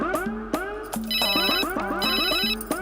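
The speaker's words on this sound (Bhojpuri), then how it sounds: "अरे इ त बड़का साहब के फोन बा।" A mobile phone ringtone plays loudly and close by, a bright electronic melody that repeats in short phrases throughout, with no voices over it.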